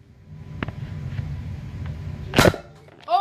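Nerf foam dart blaster fired during a backyard Nerf battle, a single sharp pop near the middle, with a brief squeaky voice sound at the end over low background noise.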